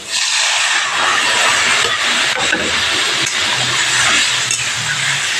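Water poured into a frying egg and potato curry sets off a loud, bursting hiss and spatter that stays strong throughout, close by.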